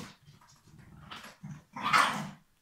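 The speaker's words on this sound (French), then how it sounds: "On va voir si j'arrive à reprendre entre les chiens qui jouent." Dogs playing make short bursts of growls and whimpering grumbles, close by, with pauses between and a louder, rougher growl near the end.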